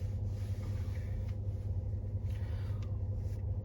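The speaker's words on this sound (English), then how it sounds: "if you hear all the noise in the background, that's the trucks I'm around" Trucks rumble steadily in the distance around 1:40 in the morning, a continuous low drone with no talking.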